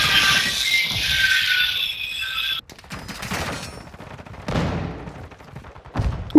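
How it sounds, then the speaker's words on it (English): Call of Duty gunfire from dual pistols: dense bursts of rapid shots, loud in the first seconds, then scattered shots and impacts until the end. "Dude, these double pistols are awesome."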